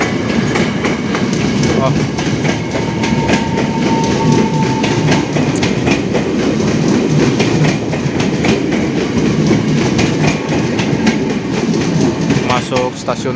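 A KRL CommuterLine electric train rolls into Tanjung Priok station, a loud close rumble with rhythmic wheel clatter over rail joints and faint squeals, and a person briefly exclaims over it.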